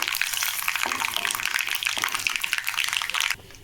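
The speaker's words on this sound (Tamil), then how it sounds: "கடுகு பொரியட்டும்." Mustard seeds spluttering and popping in hot oil alongside curry leaves for garlic chutney: a dense, continuous crackling hiss close up that cuts off abruptly near the end.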